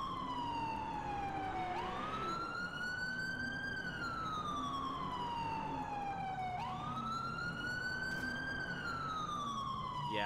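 Police car siren from GTA IV, a Crown Victoria Police Interceptor with an engine sound mod, wails in two long rising and falling sweeps over a steady engine drone, loud and continuous throughout.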